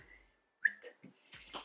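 A person whistles a single short, clear tone partway through, fairly close and alone against a quiet background, with brief rustling noises around it.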